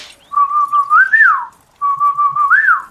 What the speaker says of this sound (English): Just some kind of whistle.